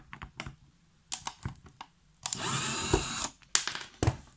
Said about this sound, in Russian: а теперь давайте вывинтим шурупчик.